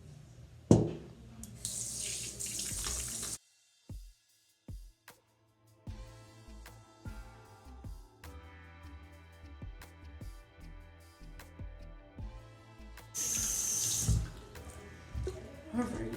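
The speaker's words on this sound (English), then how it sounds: "I wash my hands with lukewarm water." Tap water runs into a sink during handwashing with lukewarm water, a steady hiss in two bursts separated by quieter splashing and rubbing with clinks and thumps in between.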